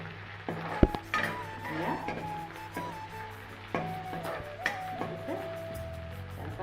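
Green chili, two cloves and cardamom fry quietly in oil in a pan for an oyster mushroom curry, with a soft sizzle under spoon scrapes and metallic clinks. A brief word is spoken near the start.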